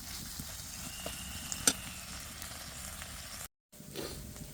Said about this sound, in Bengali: এখন এটা একটা সুন্দর করে ভাজা ভাজা করবো